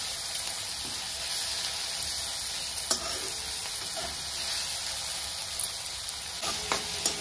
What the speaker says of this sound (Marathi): टमाटे आपल्याला 2 मिनिटं कांद्याबरोबर अजून परतायचं आहे